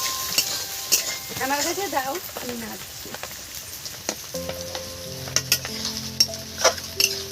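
Green peas and carrot stir-fried in a wok for Maggi noodles, with a loud, close sizzle and rhythmic stirring scrapes, plus a few brief vocal-like and tonal sounds partway through.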